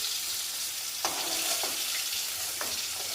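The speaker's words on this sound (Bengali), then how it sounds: "মাছটা আমার প্রায় ভাজা কমপ্লিট হয়ে গেছে।" Hilsa fish sizzles in hot oil in a pan, a steady bright frying hiss with a few sharper spatters and pops, close and alone without talk.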